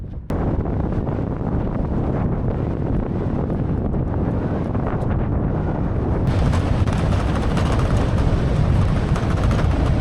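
Strong wind blowing at about 3,200 m altitude in the Sary-Chelek nature reserve, Kyrgyzstan, a loud continuous broadband rush buffeting the microphone for the whole stretch, with no voices.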